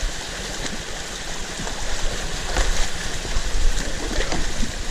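Water rushes out of a drained swamp in a steady, loud, close churning roar that swells slightly over the few seconds, with no voices.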